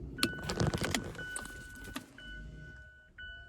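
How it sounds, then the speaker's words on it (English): A Mazda CX-5's electronic parking brake motor releases with a steady, close electric whine. A clatter of clicks and knocks comes early on, and there is no talk. "the electronic parking brake was doing this thing. It decompresses. It says zzz."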